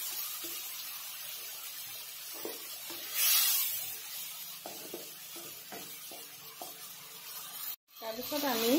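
Onion and spices sizzle quietly in a frying pan while a spoon scrapes and stirs in irregular bursts, with a brief clatter and some louder utensil noise near the end.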